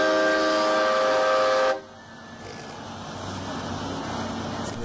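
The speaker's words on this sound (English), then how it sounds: "I got train horns on this, so they'll be coming up here pretty quick." A truck fitted with train horns blasts a loud, sustained multi-tone chord for nearly two seconds, then cuts off, leaving steady outdoor vehicle rumble and background noise.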